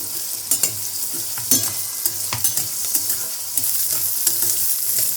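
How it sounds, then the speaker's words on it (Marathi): Steady sizzling of peanuts and fresh green peas sautéing in a hot pan, with repeated scraping knocks of a spoon stirring through it, close and continuous. "शेंगदाणे घ्यायचे ओले मटर घ्यायचे एक अर्धी वाटी परतून घेऊया"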